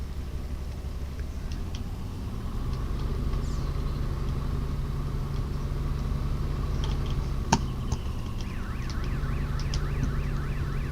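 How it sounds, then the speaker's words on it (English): A distant siren, apparently from a pub, wails in a slow rising and falling pattern over steady outdoor rumble, growing clearer toward the end with a sharp click midway. "one of the sirens going off. Must be the one at the pub."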